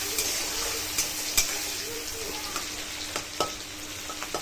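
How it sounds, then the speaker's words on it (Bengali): Coarsely cut onions fry in a pan with a steady, close sizzle, punctuated by occasional soft clinks and scrapes of stirring. "পেঁয়াজটি ভেজে নিচ্ছে"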